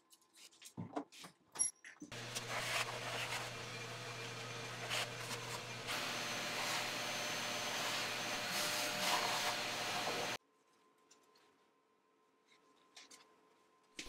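A milling machine in a workshop starts with a few handling clunks, then a steady motor whine and whir for about eight seconds, gets a bit louder partway through, and stops abruptly, leaving near silence with faint taps.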